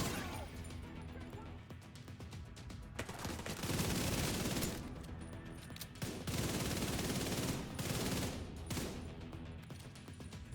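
Video game gunfire forms dense, rumbling volleys that swell and fade across the stretch, with talk running beneath.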